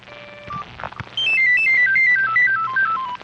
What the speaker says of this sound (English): I should probably turn my cell phone off so it does not make noise on the air